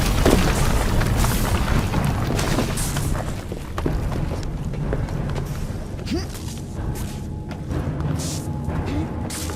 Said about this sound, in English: Piece of Eden detonated and took the lab with it.